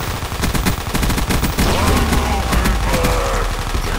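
A gun magazine is emptied in Black Ops 2 zombies on a Minecraft-styled custom map, with loud rapid automatic fire crackling continuously alongside game effects and tonal sounds.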